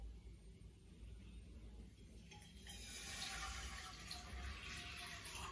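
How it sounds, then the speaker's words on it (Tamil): Leftover milk poured into a pan for jackfruit kulfi, a soft continuous liquid stream that grows slightly fuller partway through, close and fairly quiet. "பேலன்ஸ் இருக்கிற பாலை தூக்கி அப்படியே ஃபுல்லா நம்ம இதில் ஊற்றிடலாம்."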